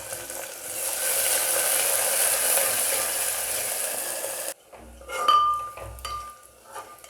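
Sliced onion frying in a pan for Nepali mutton curry, a steady sizzle that goes quiet partway through, followed by clinks and scraping of a utensil against the pan.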